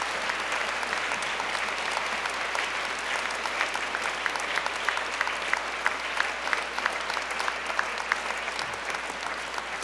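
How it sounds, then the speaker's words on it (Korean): Audience applauding at a university founding anniversary ceremony, a sustained wash of many hands clapping from a large seated crowd, steady and moderately loud throughout. "모두 큰 박수로 축하해 주시기 바랍니다"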